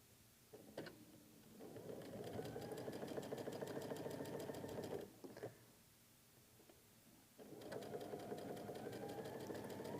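A sewing machine stitches curved quilt piecing in two steady runs of rapid, even clatter with a brief pause between, close and fairly quiet, with faint clicks at the starts and stops.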